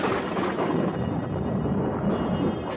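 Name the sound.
thunder crashing outside a house, sound effect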